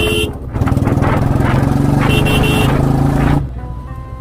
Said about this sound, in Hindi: मैं भी आ गया और मेरी बाइक भी आ रही है।